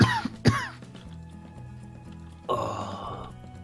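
A person coughs twice in quick succession close to the mic, followed by quieter throat noises and a rougher burst later during a German-language gaming session, with steady background hum.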